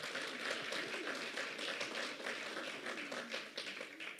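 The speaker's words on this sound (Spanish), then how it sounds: "¿Le da un aplauso al Señor?" A church congregation gives applause for the Lord during a sermon, a soft, fairly distant patter of many hands that continues evenly throughout.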